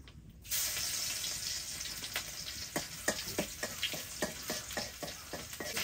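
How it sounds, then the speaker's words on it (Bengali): Garlic added to hot soybean oil in a wok with dried red chillies sizzles and crackles loudly and steadily, with sharp spitting pops and stirring clinks scattered throughout. "আমি এখন রসুন দিতেছি"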